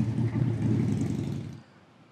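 A motorbike rumbles past close by, its low engine drone holding steady before quickly dropping away as it moves off.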